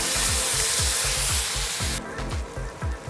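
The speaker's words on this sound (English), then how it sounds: "We're gonna let this keep cooking until all the fat here has rendered out and we have some crispy beef" Ground beef with homemade taco seasoning sizzles loudly in a pan, cooking until the fat renders and the meat crisps, while a spatula scrapes and stirs it in a steady rhythmic pattern; the hiss drops somewhat partway through.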